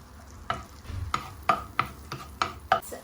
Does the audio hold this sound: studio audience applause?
no